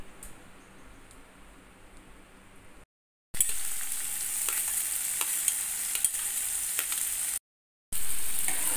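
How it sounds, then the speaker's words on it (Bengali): Chopped onions dropped into hot mustard oil in a kadai, a steady bright sizzle and crackle that jumps louder after a brief cut and stays continuous, with occasional stirring scrapes and no talk. "এইবার তেলের মধ্যে পেঁয়াজ কুচি ভাজার জন্য দিয়ে দিতে হবে।"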